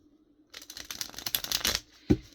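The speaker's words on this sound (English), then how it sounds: "I did cut the deck and I did shuffle these" A deck of tarot cards is shuffled close by, a quick run of crisp riffling flutters after a brief pause, ending in a single soft tap.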